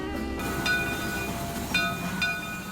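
A narrow gauge train on the Georgetown Loop Railroad in Clear Creek Canyon, Colorado, rolls past as a steady, distant rumble with faint metallic squeals recurring now and then.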